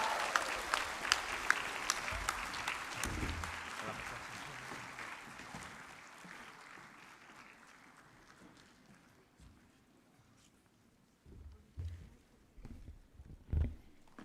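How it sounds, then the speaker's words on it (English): Loud applause from a large crowd at a graduation convocation, slowly fading over several seconds, followed by a few scattered bursts of clapping near the end. "Can we have a round of applause to all our graduates?"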